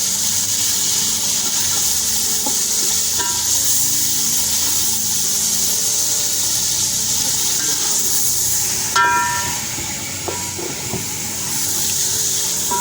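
Continuous loud sizzling and hissing from a hot pan as tomatoes, ginger-garlic paste and chicken are fried for matar chicken pulao, with occasional scraping clinks of a spoon stirring, no talking.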